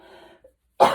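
A single short cough, sharp and close, following a moment of quiet after some faint murmuring.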